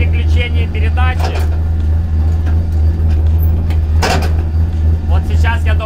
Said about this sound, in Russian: Вот такой звук сейчас будет при переключении передачи.